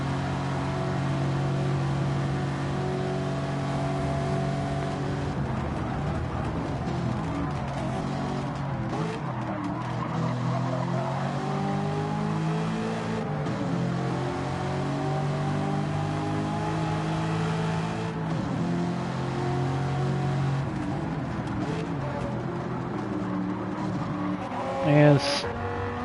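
Race cars in Gran Turismo 7, among them a 2002 Acura NSX Type R, drone continuously at a sustained engine pitch with shifting revs and occasional tire squeal. A commentator talks throughout.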